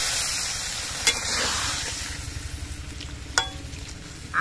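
Broth poured into a pan of sizzling fish masala, with a broad steady hiss and bubbling frying noise, a couple of sharp clinks or splashes standing out, and no voices.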